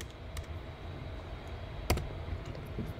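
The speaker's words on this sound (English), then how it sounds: "So if I type 4 and add 2 asterisks," Several faint key presses on a computer keyboard, a few soft clicks with one slightly louder tap, over a quiet background hum.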